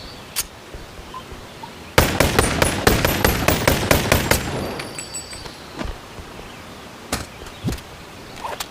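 Rapid pistol shots ring out in the VR game Bonelab, a dense run of loud sharp cracks fired in quick succession, followed by scattered single shots and faint clatter.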